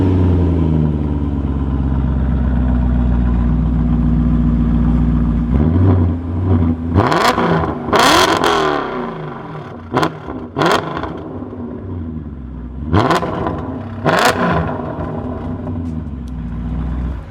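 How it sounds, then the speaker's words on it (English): A BMW E39 M5 engine idles with a deep rumble, then fires off several sharp revs with stock-style crackling exhaust bursts, loud and close, with no talk. "let's go ahead and hear the exhaust note"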